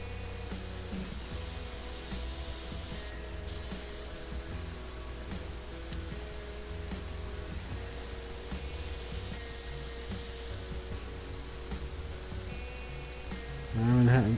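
An airbrush spraying paint, a long steady hiss running almost without a break, with a brief louder burst near the end.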